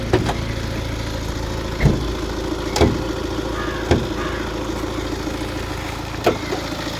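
A vehicle engine runs at a steady idle, a low continuous rumble close by, punctuated by four sharp clunks or knocks at irregular intervals.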